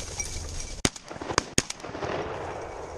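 Shotgun blasts during a pheasant hunt outdoors, three sharp cracks in quick succession over about a second, each with a brief echo, set against faint wind and ambient noise.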